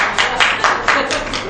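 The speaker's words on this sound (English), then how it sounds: "A round of applause." An audience at a local government business seminar gives a brief round of applause, a short burst of distinct, fairly close claps with a few separate hand strikes standing out.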